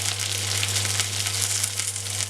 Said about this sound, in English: I'm just slightly pressing these down a bit, and you can maybe hear that little sizzle.